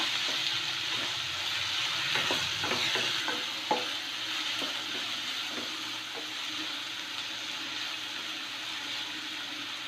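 Curry leaves and onion sautéing in a pan for egg kurma, a steady close sizzle with a few scraping stirs of the spoon early on, no voices.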